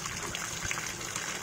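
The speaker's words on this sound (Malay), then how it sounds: "Air masuk. Kita cuba penuhkan air dulu." Water runs into the drum of a Sharp ES-U756E washing machine whose drainer is faulty, a continuous rushing trickle close by with no voices.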